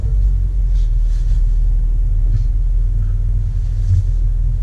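A car pulls away and drives on, a steady deep engine and road rumble heard from inside the cabin, loud and continuous with faint rattles on top.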